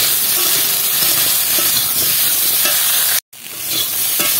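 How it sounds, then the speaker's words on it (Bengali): Green bananas frying with salt in a wok, stirred steadily: a continuous close sizzle with scraping stir strokes, a brief dropout near the end, then the frying resumes. "লবণটা দিয়ে ভালো করে নেড়ে চেড়ে নেব।"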